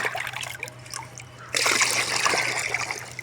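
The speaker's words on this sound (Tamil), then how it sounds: "இந்த வாளியில் ஊற்றி செடிக்கு ஊற்ற போகிறோம்" Water poured from a bucket onto garden plants, mixed with mustard fertilizer: a faint trickle first, then a sudden louder splashing stream that continues steadily.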